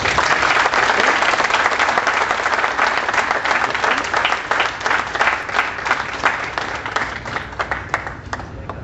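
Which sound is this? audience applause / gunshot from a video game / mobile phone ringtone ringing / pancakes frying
audience applause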